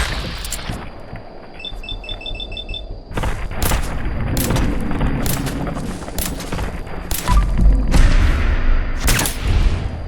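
Kneecapper gun firing in Fallout 4, a string of loud sharp gunshots fired in irregular bursts, punchy and close, with booming impacts and combat noise between shots.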